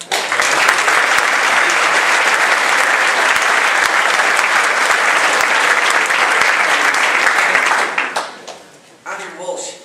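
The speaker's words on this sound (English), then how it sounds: "they all deserve a round of applause" Loud, dense applause from a school audience fills the room at a class speech, steady clapping that cuts off sharply near the end, leaving a few voices talking.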